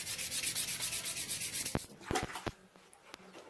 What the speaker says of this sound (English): I've been sanding on this for a while now, and whenever I started out at an 80 grit